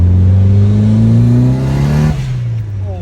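Car engine in an arcade racing game revving hard and accelerating through second gear, a loud rising drone that climbs steadily, then drops at a shift and carries on at a lower pitch.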